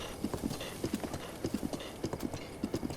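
Horse hooves clip-clopping at a steady trotting rhythm in Breath of the Wild, a quick even series of close, moderately quiet hoof beats over a soft ambient bed.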